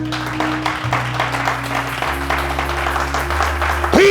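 A church congregation claps and applauds during worship, a dense steady patter of hands that runs throughout beneath sustained low musical tones, with no spoken voice.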